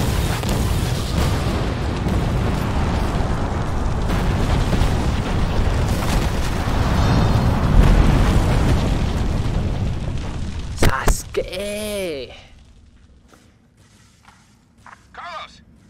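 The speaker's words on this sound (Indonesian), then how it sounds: "Meledak." A big explosion in the video game Resident Evil 3 Remake rumbles heavily and builds for several seconds, then breaks off into a burst of sharp, ringing effects before the sound drops away to quiet.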